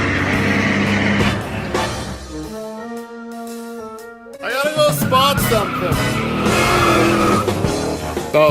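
A video game truck spins its tyres in a burnout, a loud squealing, skidding engine roar that drops out briefly in the middle to steady tonal hum before surging back noisy and dense.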